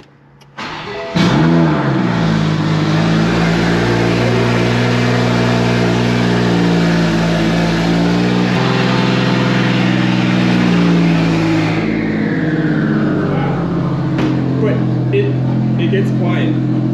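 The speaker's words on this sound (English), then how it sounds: "it just does that loud start for like 20 seconds, and then it'll even get quieter than this" A 2021 Supra with a JB4 tune fires up with a loud, deep cold-start roar that holds steady for several seconds, then drops back to a quieter, smoother idle. The engine dominates, close and alone.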